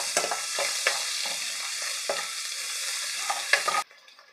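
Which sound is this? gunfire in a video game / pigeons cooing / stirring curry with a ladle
stirring curry with a ladle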